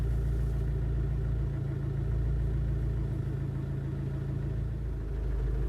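A car engine runs at a steady low idle, a constant close rumble with no voices over it.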